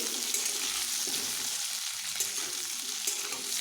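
Cut pumpkin pieces fry with fish and tempering spices in hot oil, a dense, steady sizzle close by with soft stirring movements throughout.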